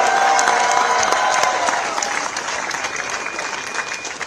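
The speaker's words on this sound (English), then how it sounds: "Let's give a big round of applause to all the volunteers" Applause and some cheering from a crowd honouring volunteers at India House during a ceremony for Indian athletes; loud dense clapping that starts strong and gradually thins and softens.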